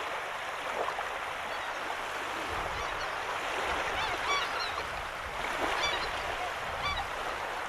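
Bewick's swans in the Arctic summer give soft, scattered honking calls at a distance, several short bugling notes coming in loose clusters over a steady bed of wind and water noise.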